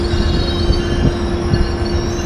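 A Metrolink commuter train rolls past close by, a loud steady rumble of wheels on rails with a sustained squealing tone.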